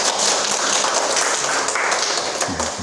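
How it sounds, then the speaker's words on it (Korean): Audience applause welcoming a lecturer at a science talk in Daejeon, a steady patter of clapping from a mostly young crowd, moderately loud and fading slightly at the end. "박수로 맞이해주세요"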